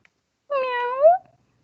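One clear, close meow from a cat, rising slightly then falling, about a second long in an otherwise quiet space.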